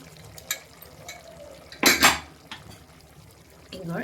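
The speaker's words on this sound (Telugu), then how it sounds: "ఇప్పుడు ఒకసారి మూత తీసి చూద్దాం మటన్." A lid comes off a pot of mutton curry with a couple of sharp metallic clanks and scrapes amid quieter kitchen clatter, with brief voice in the background.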